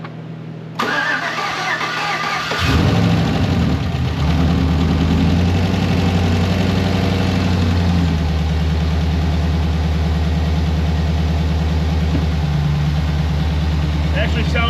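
A swapped 5.3 engine cranks briefly, catches and fires up, then settles into a steady, loud idle that runs on close by without a break.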